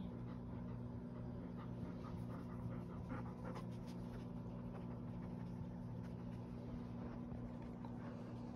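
A golden retriever pants steadily close by, quick rhythmic breaths over a constant low engine-like hum.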